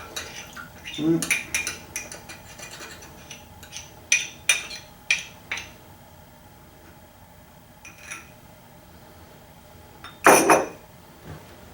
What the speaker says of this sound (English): Gonna try to mix and just scrape to get all this out.